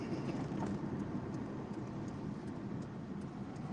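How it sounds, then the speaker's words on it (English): A long black train rolls past, producing a steady, low broadband rumble that holds even throughout, fairly distant and subdued. "Train. It's a long black train."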